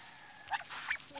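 A duck in a rural countryside setting gives two short, honking quacks, faint and a little distant, with quiet background between them.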